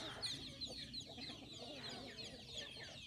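Chickens on a rice farm clucking softly at a distance, with low scattered calls and a rustling outdoor background throughout.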